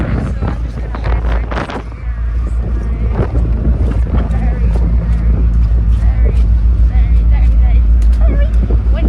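Strong wind roars and buffets across the open deck of the M.V. Alfred ferry sailing from Brodick to Troon, a loud, constant low rumble with a person talking over it.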